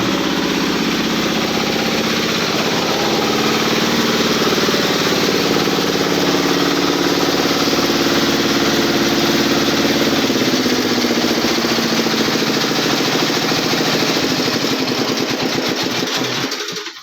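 A Yamaha engine drives a hollow block making machine with a gearbox, a loud, steady mechanical drone with rapid vibrating chatter that runs unbroken until it cuts off abruptly at the end.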